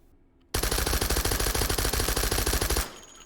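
A suppressed Thompson submachine gun fitted with a stock muzzle brake firing in the H3VR virtual reality shooter, one sustained rapid burst of evenly spaced shots lasting a couple of seconds, loud and close, then cutting off.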